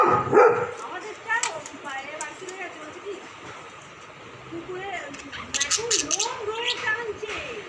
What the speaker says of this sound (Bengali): বাইরে কুকুরগুলো চেঁচাচ্ছে না